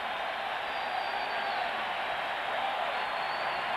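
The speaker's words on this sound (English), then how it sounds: "Fans applauding for Nagel." Steady applause from fans at a 1996 World Series baseball game between the New York Yankees and Atlanta Braves in Atlanta, a continuous broad crowd wash at even level with no distinct talk.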